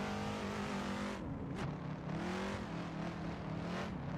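A race car engine held in third gear in a racing simulator drones loudly and steadily. Its pitch dips briefly, then climbs again as the car accelerates, with no voices.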